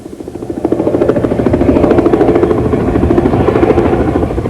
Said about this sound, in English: Above the intersection of Florence and Normandy streets, television helicopters are feeding live pictures out to the whole country.